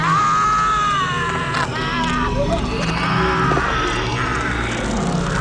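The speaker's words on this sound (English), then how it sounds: "we hear a lot of screaming" A humanoid creature in the 1991 horror film The Borrower lets out loud, sustained, wavering screams and yells that run almost without a break, over a dense, noisy soundtrack.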